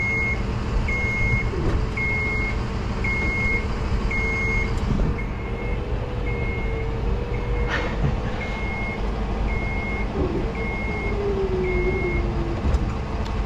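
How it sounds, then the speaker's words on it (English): A winch drags a machine up onto a truck's deck under a steady engine drone, with a motor whine that shifts in pitch and a regular beeping alarm repeating throughout. "instead I'm just gonna winch it up"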